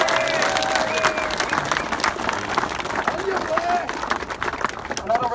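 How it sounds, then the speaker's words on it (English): A crowd claps in a sustained round of applause at an outdoor political meeting on St Kilda Beach, dense and lively with some voices mixed in. "Give him a round of applause, everyone."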